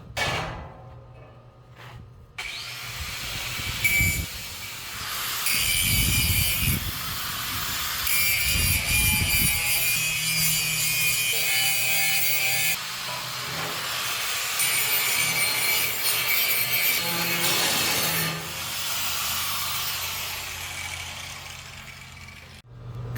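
Angle iron being cut into small pieces for a smoker firebox grate, a sustained harsh grinding-saw rasp that runs almost continuously with brief pauses, loud and close.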